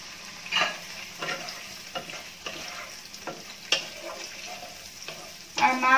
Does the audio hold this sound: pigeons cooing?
no